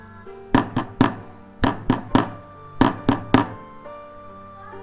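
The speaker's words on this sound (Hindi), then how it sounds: "अरे रुको यार, दरवाजा क्या तोड़ दोगे?" Knocking on a door in a cartoon comes as three sets of three firm thuds in a steady rhythm, close and clear over a quiet background.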